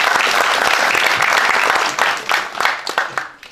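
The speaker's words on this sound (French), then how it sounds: "On les applaudit." Audience applause at a public talk, dense and steady clapping from a sizable crowd that thins toward the end into scattered individual claps.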